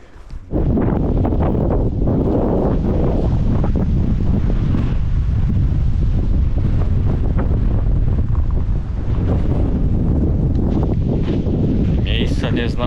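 Strong wind buffets the microphone outdoors in northern Norway, a steady, loud roar of gusts that fills the whole stretch with little let-up.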